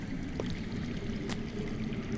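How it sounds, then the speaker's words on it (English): Underground water flows in Telltale's Game of Thrones video game, a faint, steady trickling murmur with a couple of brief drips or splashes over a low ambient drone. "That's water. I hear water. From underground."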